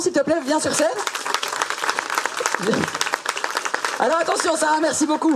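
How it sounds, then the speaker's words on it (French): Audience applause at an outdoor summer magic and mentalism show at Pairi Daiza, brisk clapping under someone speaking French into a microphone, the clapping swelling again near the end. "Tu peux venir près de moi sous un tonnerre d'applaudissements"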